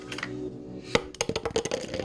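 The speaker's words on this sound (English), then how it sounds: "first I start with putting cubes of ice cubes." Ice cubes from a plain ice tray dropped into a glass for iced coffee, a sharp clink followed by a rapid cluster of small knocks and rattles, close and fairly quiet.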